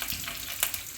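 Curry leaves, mustard seeds and cumin sizzle in hot oil while a leafy greens stir-fry begins. Close, steady frying hiss carries a few sharp crackles and pops.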